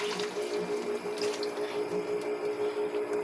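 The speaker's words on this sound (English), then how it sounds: "I am going to put a little bit more of water" Water poured from a tap into tomato sauce during cooking, a steady running trickle with small splashes over a faint background hum, close and moderately loud.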